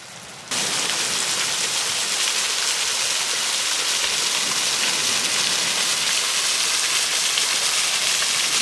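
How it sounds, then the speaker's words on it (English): A waterfall pours steadily in the rain near a winter beach, a loud, dense broadband rush that begins abruptly after a brief quieter moment and then holds constant, alone without talk. "Pretty waterfall up here"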